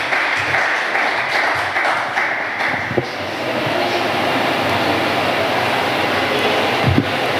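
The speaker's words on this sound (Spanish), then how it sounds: "Le damos un aplauso, por favor" An audience applauds a speaker at a public event, a broad, steady wash of clapping from many people in a large room, fairly even throughout with a couple of louder knocks.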